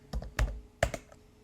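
A few quick keystrokes on a computer keyboard, three or four close, soft clicks in a quiet room with no talking.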